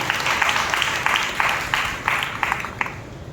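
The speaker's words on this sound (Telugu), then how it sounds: "చప్పట్ల ద్వారా స్తుతి చేసి బిగ్గరగా" A church congregation claps together in praise during a Sunday worship service, a dense, steady wash of many hands with rhythmic surges throughout, filling the room at moderate loudness with no voices standing out.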